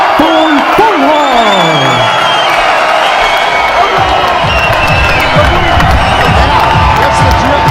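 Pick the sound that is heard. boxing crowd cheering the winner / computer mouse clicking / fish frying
boxing crowd cheering the winner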